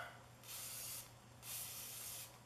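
WD-40 degreaser hisses from a spray can in two short bursts, close and fairly quiet, during work on a 2004 Troy-Bilt Super Bronco tiller, with a faint steady hum underneath.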